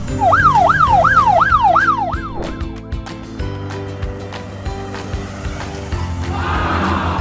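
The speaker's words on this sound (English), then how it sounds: "Wow, it's a police car." A police car siren wails in fast, regular rising and falling sweeps for about two seconds, loud and near. Busier traffic-like sounds and a hiss toward the end follow.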